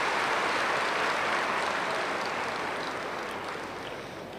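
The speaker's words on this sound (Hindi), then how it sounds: "दिल्ली वाले ज़रा ताली बजा लो।" Large audience applause at a spiritual gathering of around thirty thousand people, a dense steady wash of clapping that stays loud and even throughout, slowly easing toward the end with no talk over it.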